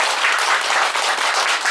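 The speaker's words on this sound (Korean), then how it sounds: "우레와 같은 박수를 주시면 고맙겠습니다" Audience at a political party press conference breaking into loud, dense applause from many people clapping at once, sustained and close throughout the short burst.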